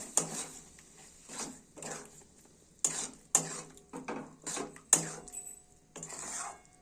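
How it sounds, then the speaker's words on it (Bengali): Boiled peas are tipped into masala in a pan and stirred, giving soft scraping, rasping sweeps and a few sharp knocks close by, no voices. "আমরা সিদ্ধ করা কলাইগুলো দিয়ে দিচ্ছি। কলাইগুলো দেওয়ার পরে আমরা এটা ভালো করে নেড়ে চেড়ে নেব।"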